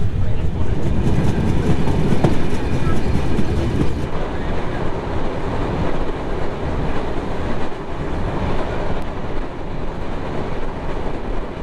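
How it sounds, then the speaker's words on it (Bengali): A passenger train pulls away from Narail station in Bangladesh, a continuous loud rumble and rattle of wheels on track, with voices talking faintly within the din. "তো ট্রেন এখন নড়াইল ছেড়ে যাচ্ছে।"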